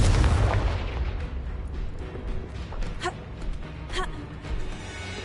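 Confringo fire spell blasting in the Hogwarts Legacy video game: a loud, booming burst up front that rumbles away, followed by a few softer crackling pops.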